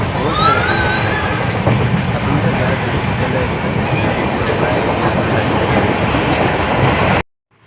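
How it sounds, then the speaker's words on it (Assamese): A Tinsukia–Naharlagun passenger train in Assam rumbles past up close, a loud steady roar with rhythmic wheel clatter and faint squeals, cutting off abruptly at the end. "দেখিবলৈ পাইছে মোৰ পিছফালে ট্ৰেইন।"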